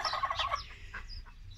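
Chickens scratching about on sawdust in a coop give short close chirps and clucks in quick succession, with quieter calls trailing off afterwards.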